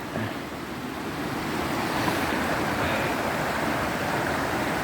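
A creek rushes in a continuous broadband wash of flowing water in a winter forest setting, steady and fairly loud throughout, with no voices.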